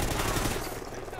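Gunfire in the video game Call of Duty: Ghosts during a Team Deathmatch on the Freight map, a loud, dense burst of rapid automatic shots filling the short moment without a break.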